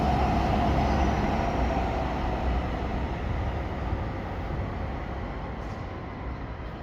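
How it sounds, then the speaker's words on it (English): A train passing by outdoors, a broad steady rumble that slowly fades, with no talk over it. "There's a beautiful thing, a train."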